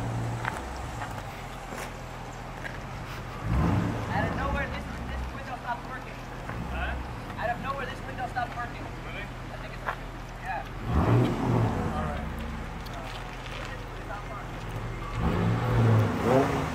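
A Nissan Z car drives up with a low engine rumble that swells as it nears, rising in a couple of louder surges, while people talk over it.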